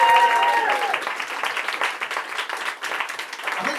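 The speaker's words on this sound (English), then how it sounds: "Give Darius Davies a round of applause" A comedy club audience bursts into sustained applause, a thick wash of clapping that stays steady and close, with a brief voice at the start.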